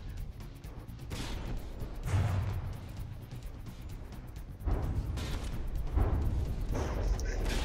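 Naval warship battle video game with heavy shells firing and punching through armor: a few deep booming thuds and rumbling bursts, some spaced a couple of seconds apart, at moderate loudness.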